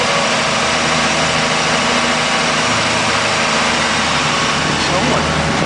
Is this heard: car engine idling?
yes